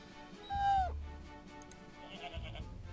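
A short, high wavering goat bleat plays as a sound effect in My Little Investigations, one clear cry near the start over quiet game background, followed by softer effects.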